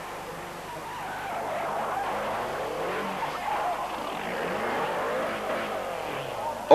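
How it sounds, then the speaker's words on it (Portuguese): A Renault 11 Turbo rally car on the 1989 Monte Carlo Rally slides wide through a bend with the handbrake pulled, a sustained rough skidding roar of tyres and engine building steadily, heard fairly close with no talk. "Oreille entra muito depressa na curva, o R11 foge de frente e o piloto puxa o travão de mão"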